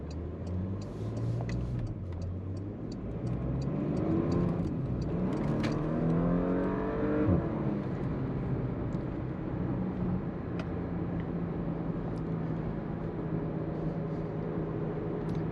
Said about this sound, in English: See if I could sneak into launch on this on-ramp.